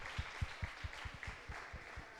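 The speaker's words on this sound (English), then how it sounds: "Another applause for Donald." Applause from an audience at an artist talk on generative art. Fairly faint hand claps come at a quick, steady rhythm for about two seconds.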